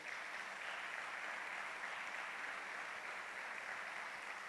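A church congregation in Argentina applauds, its dense, steady clapping sustained evenly for several seconds at a moderate distance, with no voices rising above it.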